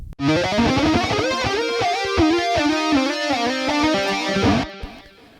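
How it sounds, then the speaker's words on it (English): An electric guitar with a rolled-off tone, run through a phaser, distortion and a Soldano amp for a synth-like, talking quality, plays a sustained melodic line alone before stopping abruptly. "a rolled off tone on your guitar into a phaser and then into distortion and then into like a Soldano amp"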